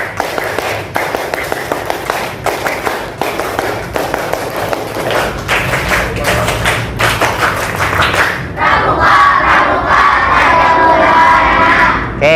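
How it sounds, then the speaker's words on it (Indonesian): A class of schoolchildren does an Indonesian scout clap chant, with sharp rhythmic group clapping and shouts, ending in a loud burst of cheering and voices. "3 kali tepuk pramuka."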